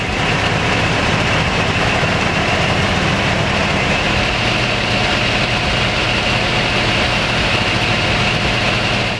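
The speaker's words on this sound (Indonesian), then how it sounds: "Nah, suara mesinnya kayak gini nih teman-teman." Adiputro Neoplan bus engine idling steadily, a loud continuous low rumble with a constant hum that holds evenly throughout, no voices over it.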